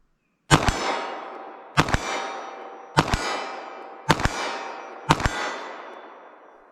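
Five loud, sharp 9mm handgun shots ring out at a steady pace of about one per second at an outdoor range, aimed at a target 25 yards away. Each crack is followed by a short echoing decay, with no speech.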